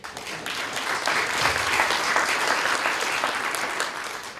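Congress participants in an auditorium applaud warmly and without a break at the opening session. Dense, even clapping from a large seated crowd fills the hall at a steady level for several seconds.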